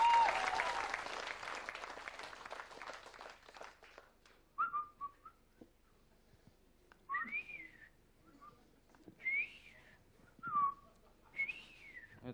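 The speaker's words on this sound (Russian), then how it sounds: "Ваши аплодисменты!" A theatre audience applauds a stage act, dense clapping loud at first and fading over about four seconds, followed by a run of loud melodic whistles repeating at intervals.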